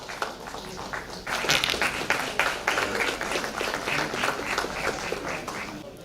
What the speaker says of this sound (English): A big round of applause to Sanjay and his wife Vaishali.